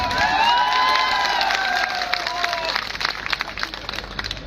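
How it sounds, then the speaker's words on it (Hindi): A crowd at a political rally claps and cheers, loud at first and then thinning into scattered, uneven claps and shouts toward the end, with a tonal whistle-like sweep early on. "एक नाम जिसको लेने से पहले ही तालियां बजना शुरू हो जाए"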